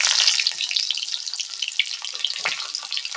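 Small onions dropped into hot oil in a pan, giving a bright, crackling sizzle that is loudest at first and then settles into an uneven, popping fry.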